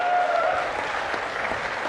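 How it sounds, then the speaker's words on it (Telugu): An audience at a public speech by the state chief minister in Kaikalur breaks into brief steady applause, a dense wash of many hands clapping, fairly close. "గట్టిగా చప్పట్లు కొట్టి అభినందించాలి."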